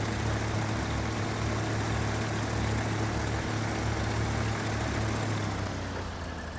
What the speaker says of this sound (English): I feel like this engine sound is actually really loud.